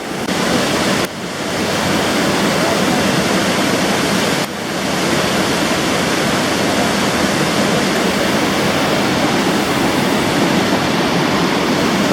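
Loves Falls waterfall in Sierra City roaring loud and steady up close, a dense continuous rush of falling water with a couple of brief dips, no voices.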